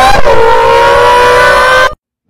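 A voice imitates a Roots-style supercharger with a loud, close, sustained whining hum that holds steady and then cuts off abruptly.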